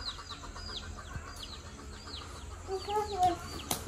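Chickens cluck in a farmyard with turkeys nearby, the birds busily chasing bugs; soft repeated clucks and chirpy calls rise over steady outdoor background, a little louder toward the end.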